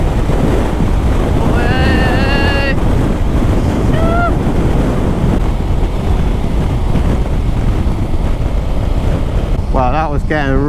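Strong wind buffets a motorcycle riding on a Spanish motorway, a loud constant roar of wind noise against the rider's microphone throughout, with brief whistling tones rising and falling.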